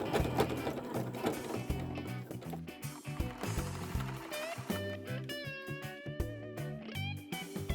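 A sewing machine topstitches a denim dress hem with yellow thread at a long stitch length, running in quick bursts of rhythmic mechanical chatter that start and stop, fairly close and without talk.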